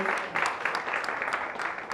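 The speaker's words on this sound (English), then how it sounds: "A big round of applause for our panelists, Kimberly, Gabriela, Paige, and Leo." An audience claps for the panelists after an ethics and diversity in machine learning discussion. The applause is dense and steady, without a break, through the short moment.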